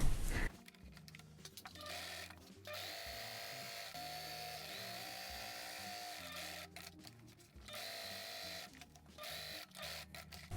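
A sewing machine with a thick needle and black polyester thread stitching in steady mechanical runs, a close, quiet rapid whirring that stops and restarts several times with brief clicks between bursts.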